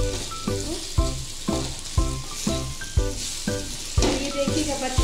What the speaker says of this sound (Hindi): अब इसे हम अच्छे से चलाते हैं।